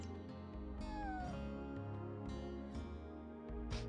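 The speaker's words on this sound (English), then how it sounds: "Let me pet the cat. Yes, the cat makes noises." A cat in the Chrono Cross video game gives a short meow as it is petted, a brief rising-then-falling cry over steady in-game background music.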